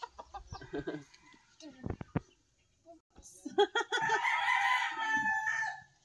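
Chicken clucking in short bursts, then a loud, drawn-out crow or scream close by, with people talking in between.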